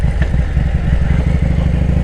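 A 2018 Harley-Davidson Softail Deluxe with a Milwaukee-Eight engine and an aftermarket cam runs nearby with a loud, steady, low rumbling idle and a rapid uneven thump throughout.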